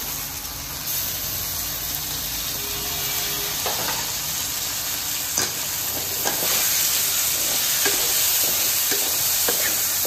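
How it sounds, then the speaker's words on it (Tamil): Onions sizzling in a pan for pirandai chutney, a steady close frying hiss with scattered stirring clicks and scrapes, no talk. "வெங்காயம் நல்லா வதங்கட்டும்"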